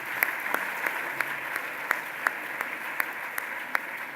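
Applause from a conference audience fills the hall in a steady, moderately loud wash of clapping, with individual sharper claps standing out throughout.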